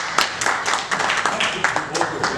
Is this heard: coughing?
no